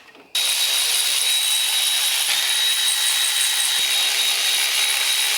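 A power ratchet zips spark plugs out of a Chevy 250 straight-six engine, giving a loud, continuous whirring whine with a steady high tone. It starts abruptly after a brief quiet moment and runs unbroken, with no talking.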